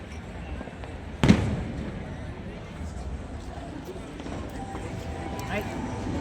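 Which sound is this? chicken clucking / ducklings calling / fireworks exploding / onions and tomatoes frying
fireworks exploding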